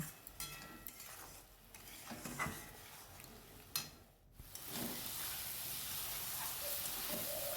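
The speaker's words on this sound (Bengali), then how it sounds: "তো দেখো একটু জিরের গুঁড়ো দিয়ে দিলাম, এবার ভালো করে কষিয়ে নেব" Spice paste with cumin powder, green chillies in the dish, is sautéed in a wok, with faint scraping stirs and soft sizzling, then a brief pause before a steadier hiss takes over.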